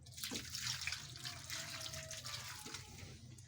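Water is poured into a wok holding water chestnuts in a home kitchen, producing a steady, faint splashing trickle that runs continuously with no talking.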